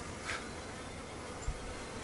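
Honey bees from a newly installed package hum in a faint, steady buzz, with a brief brighter whine near the start and a small knock toward the end.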